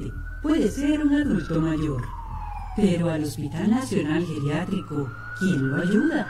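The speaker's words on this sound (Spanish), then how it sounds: "Esa es una ambulancia." An ambulance siren wails in long rising and falling sweeps, running steadily beneath someone talking throughout.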